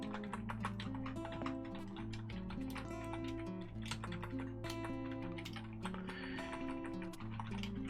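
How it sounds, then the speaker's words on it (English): Continuous typing on a computer keyboard, a quick, uneven run of close clicks and taps lasting several seconds over soft background music. "It's a lot of typing to do this kind of stuff"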